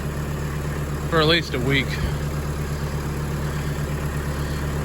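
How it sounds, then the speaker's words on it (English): A lawnmower tractor, freshly unhooked from a New Holland 630 baler, idles with a steady low drone throughout while someone speaks briefly over it. "it's time to unhook the lawnmower tractor from the baler"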